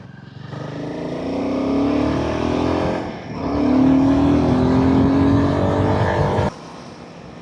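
Royal Enfield Himalayan 450 motorcycle ridden on an open road in Bangalore, its engine droning and rising as it accelerates through gears, loud and close, with wind rush before dropping off abruptly near the end.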